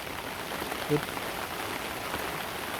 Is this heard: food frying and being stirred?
no